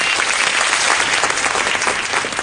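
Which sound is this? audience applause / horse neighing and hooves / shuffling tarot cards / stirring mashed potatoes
audience applause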